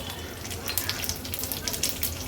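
Mustard seeds and cumin sizzle in hot oil with curry leaves, a dense close crackle with rapid small pops throughout.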